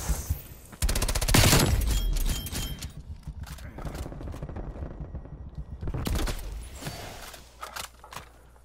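A MAC-10 submachine gun in a video game rips off a fast, loud burst, then keeps chattering more quietly with scattered shots, before another short burst near the end.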